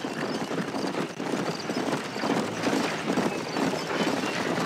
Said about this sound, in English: Guess my horse is following like a good boy.